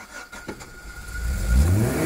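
A GM 110 V6 Vortec engine on its very first run, throttle stuck open, its roar swelling and climbing in pitch to a loud, sustained rev over about two seconds.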